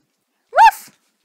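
A small Maltese dog gives a single short, bright bark, close and loud, with quiet silence before and after.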